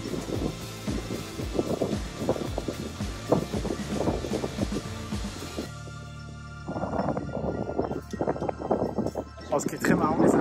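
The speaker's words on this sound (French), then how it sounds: "Il y a beaucoup de vent." Strong wind buffets the microphone at a golf practice range during a major tournament at St Andrews, a continuous low roar and rumble that swells and drops, with people talking faintly in the background.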